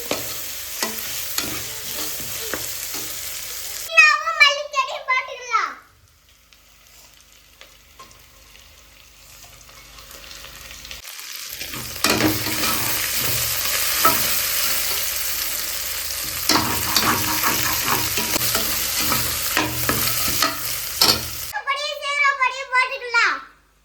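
Food fries in ghee for a coconut biryani, giving a crackling, spattering sizzle with stirring noises that drops away for a few seconds and then returns; a voice chimes in at intervals.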